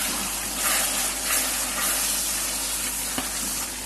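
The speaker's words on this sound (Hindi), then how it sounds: "ये हम थोड़ा सा पानी डाल रहे हैं ताकि अभी दही शामिल करेंगे।" Water hits a hot pan of khara masala keema with spices and chillies, a steady hiss and sizzle, bubbling and spitting continuously at close range.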